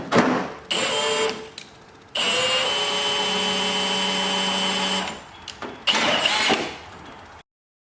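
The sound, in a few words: drilling rivet holes in car hood for vent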